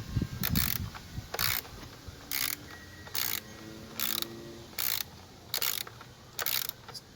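A ratchet tightens bolts on a Ford Ranger alternator, heard close up as a series of about nine short clicking bursts spaced evenly, each a brisk ratcheting stroke with brief pauses between.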